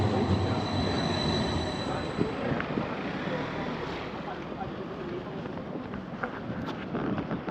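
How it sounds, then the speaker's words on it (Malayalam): An Edinburgh tram bound for Newhaven runs along with a steady, faint rolling rumble and hiss, and a voice murmurs quietly underneath. "വണ്ടിയല്ല, ട്രാമാണ് നമുക്ക് പോകേണ്ട ട്രാം"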